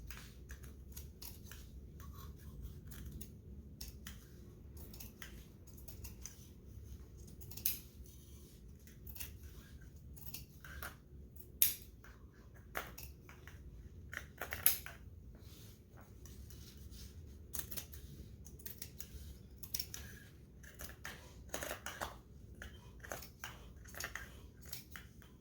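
Scissors snip through textile fabric in a long run of small, quiet cuts and clicks at a home sewing table, steady and close, with a few sharper snaps along the way.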